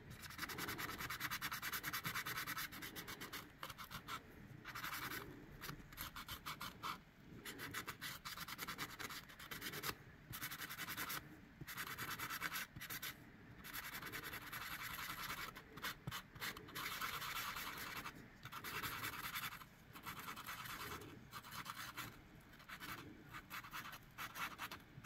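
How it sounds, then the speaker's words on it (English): Sandpaper rubs around the ridge of a resin shaker in steady back-and-forth strokes, a close, soft scratchy sound running continuously with brief pauses and no talking. "I'm going to go around and just sand the rest of this ridge."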